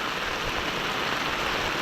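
Steady rain falls close by during outdoor fishing with a split-bamboo pole, a dense continuous hiss with no clear gaps and no talk over it.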